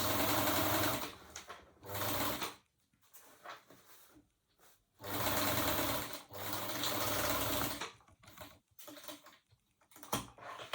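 A sewing machine stitches fabric for a drawstring bag in several loud, steady whirring bursts separated by short pauses, close at hand with no voices.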